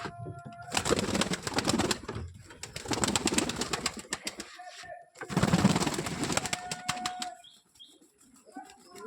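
Bursts of flapping wings and fluttering alternate with soft pigeon coos and brief quiet gaps, close and fairly loud.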